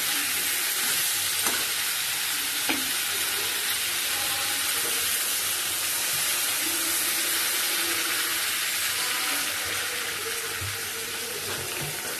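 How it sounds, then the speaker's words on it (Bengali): Water poured onto fried cauliflower in a hot pan: steady, loud, broadband sizzle and bubbling throughout, with a few faint clinks, no voices. "ফুলকপি কষানো হয়ে গেছে, এবার জল দিয়ে দেবো।"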